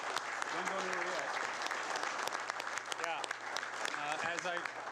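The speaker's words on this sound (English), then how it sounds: "Everyone give them a round of applause." A crowd at a city council meeting claps steadily and loudly throughout, with a few voices calling out over the applause.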